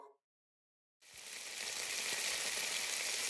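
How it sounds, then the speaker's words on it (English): A test fry of potato fries lowered into hot oil bursts into a loud, close sizzle after a moment of silence, then holds as a steady bubbling hiss. "now we're going to start with a test fry just to check the temp"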